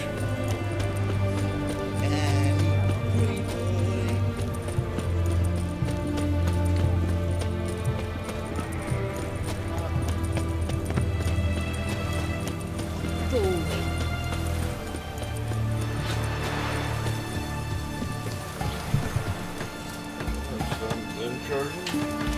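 Roach, the horse in The Witcher 3, gallops with steady clip-clop hoofbeats under game music and effects, while a player talks over much of it.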